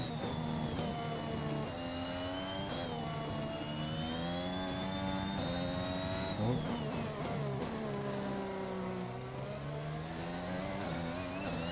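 A race car engine in a racing video game at Bahrain drones steadily under light throttle, its pitch rising and falling smoothly through gear changes, continuous and fairly quiet with no talking.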